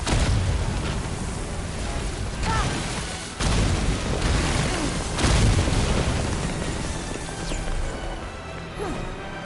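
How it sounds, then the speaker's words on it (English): Enemies blowing up in the video game Forspoken, with repeated booming blasts and crashing impacts over a dense, continuous battle din, several loud bursts spaced across the stretch. "And then dodge all of their explosions."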